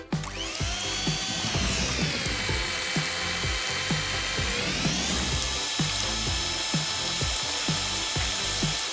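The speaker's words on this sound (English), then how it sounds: "We can move on to the mixer." Electric mixer whirring steadily through a warm dessert batter for rainbow sweets, its pitch dipping under load midway, with repeated clicking and knocking of the beaters against the bowl throughout.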